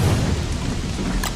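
Steady rain hiss with a low thunder rumble rolling underneath, heard during a storm in the video game Don't Starve; continuous and fairly loud, with no talking.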